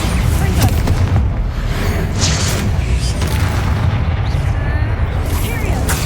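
In Hogwarts Legacy, the Bombarda explosion spell goes off amid heavy combat noise, deep booms rumbling under a constant loud roar of battle effects.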